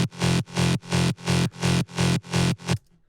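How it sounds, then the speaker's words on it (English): Multi-sample audio bass from an Ableton template played solo: eight evenly spaced, sustained electronic bass notes pulsing in a steady pumping rhythm, each swelling and cutting off, then silence at the end. "I've got one long audio bass which comes included with it, like a multi-sample bass."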